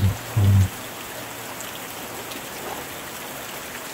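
Steady rain falls as an even, soft hiss that holds all the way through. A brief low thump sounds near the start.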